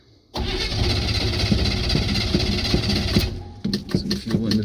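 A 1976 Chevy C30 truck engine cranks and catches, then runs with a loud, rough idle close by, revving unevenly toward the end with no talk over it.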